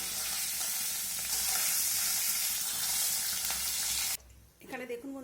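Fish heads fry in a pan of hot oil for a moong dal dish, a loud dense sizzle that runs unbroken for about four seconds, then stops abruptly, followed by a brief clatter and faint voice-like sounds.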